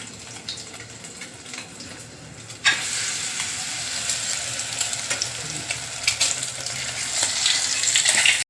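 Stuffed eggs frying in oil, filled with chicken keema. A faint sizzle swells abruptly into a louder, bubbling crackle that continues steadily, with no voices.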